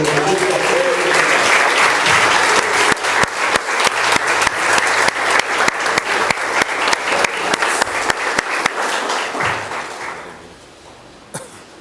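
Congregation in a church breaks into loud, sustained applause with sharp, rhythmic claps that fade out near the end, followed by a single late clap, a few coughs heard among them.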